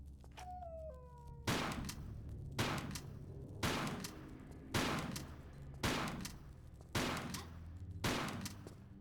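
Shotgun blasts in Tomb Raider: The Last Revelation Remastered ring out about seven times at roughly one-second intervals, each a sharp loud crack with a decaying tail, following a brief whining tone at the start.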